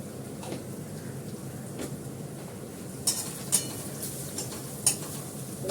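Fenugreek seeds and turmeric crackling in hot oil in a pan, a soft steady sizzle with a few sharp stirring clinks and scrapes near the end.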